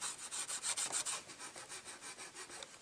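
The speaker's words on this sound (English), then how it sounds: "And then just by rubbing in and around where you painted, you can start to blend any brush strokes" Paint being rubbed by hand over a painted Nerf gun to blend brush strokes, a quiet run of rhythmic rubbing strokes, stronger at first and then softening, with no talk.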